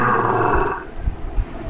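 A deep, rumbling tiger roar sound effect plays from an animal soundboard app, dense and loud at first, then breaking into a few low grunting pulses as it fades.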